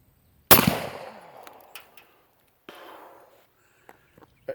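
Single-shot full-choke shotgun fired outdoors at a 15-yard pattern target, one sharp loud blast with a rolling echo decaying over about a second and a half, followed by faint handling clicks.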